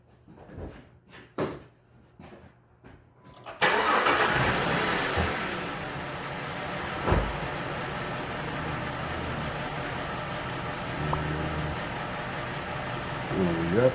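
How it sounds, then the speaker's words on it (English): A car engine cranks and catches after a few clicks and thumps, then settles into a steady, loud idle that runs on evenly near the microphone for the rest of the clip. "I'm going to start the car up."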